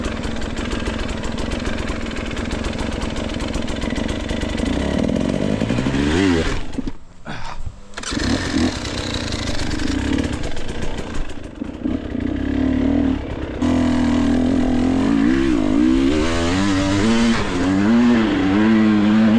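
A hard enduro motorcycle engine roars and revs loud and close during an off-road race ride, held at a high buzzing drone. It breaks off briefly, then climbs again in wavering, surging revs with no speech over it.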